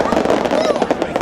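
Fireworks bursting at Disney's Hollywood Studios, a dense run of rapid crackling pops and booms heard from the crowd, with voices talking over the show.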